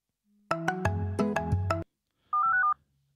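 Incoming phone call ringtone during a live stream: a quick melodic run of bright synth notes, a short pause, then a brief warbling electronic tone, loud and close with no talk over it.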